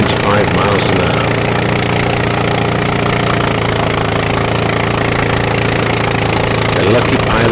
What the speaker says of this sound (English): It has a 36 horsepower Jap engine that allegedly has a top speed of 95 miles an hour.